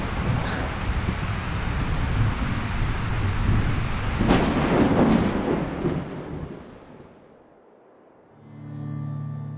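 A miniature-world movie thunderstorm with steady rain, loud wind and rumbling thunder swelling midway, then fading to near quiet before a low tonal drone rises at the end.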